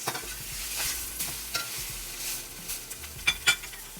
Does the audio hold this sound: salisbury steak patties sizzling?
yes